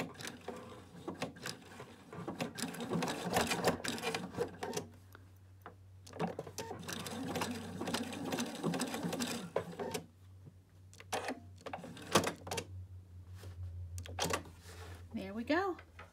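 A sewing machine runs a short fixed stitch on a fabric eyeglass case, with bursts of rapid mechanical stitching broken by pauses, close and fairly loud, while a person talks over parts of it.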